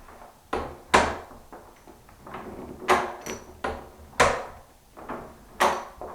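A newly installed door in an existing jamb is swung shut and latched repeatedly, giving a series of sharp wooden knocks and clicks spaced about a second apart, close and distinct.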